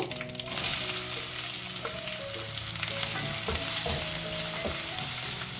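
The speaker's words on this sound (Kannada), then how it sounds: "ಸ್ವಲ್ಪ ಸಾಸಿವೆ ಹಾಕೊಳ್ಳೋಣ ಮತ್ತು ಸ್ವಲ್ಪ ಜೀರಿಗೆನ ಹಾಕೊಳ್ಳೋಣ ಇದು ಚೆನ್ನಾಗಿ ಸಿಡಿದ ನಂತರ" Mustard and cumin seeds splutter and crackle in hot oil in a pan, a steady close sizzle with scattered sharp pops throughout, and no voices.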